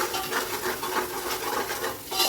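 Ginger garlic paste is stirred and sautéed in oil for chicken dum biryani, giving a continuous close sizzle with rhythmic scraping strokes of a spoon against the pan.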